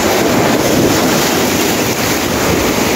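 Sea waves washing onto the shore at Initao, a steady loud rush of surf mixed with wind buffeting the microphone throughout, with no talking.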